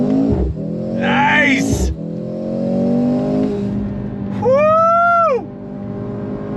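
A 2024 Mercedes-AMG C63 S E in race mode accelerates hard, its engine rising and falling through quick paddle shifts, close and loud, while a voice exclaims over it.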